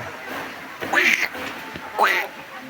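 A parrot calling at a Bohol animal park, two short, harsh, nasal squawks about a second apart, moderately close over a low background hum.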